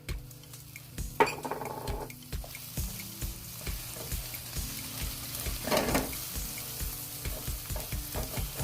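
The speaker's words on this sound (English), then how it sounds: "you want to add your garlic" Garlic frying in a wok for shrimp fried rice crackles quietly and steadily, with repeated scraping and clinking of a metal spatula against the pan in a loose rhythm.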